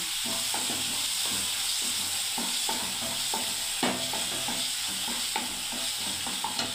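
Spice paste fries and sizzles in a pan with a steady hiss while a spoon stirs it, scraping and clacking in an uneven rhythm, close and fairly loud, no voices.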